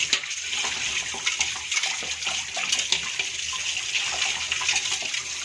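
Running water splashes steadily from a tap over a kitchen chimney filter being rinsed. A close, continuous hiss and gush with small shifts as the stream is moved.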